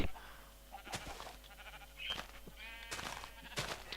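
Sheep in the game Minecraft bleat in a few short wavering calls that sit close and clear over faint game background noise, with no talking.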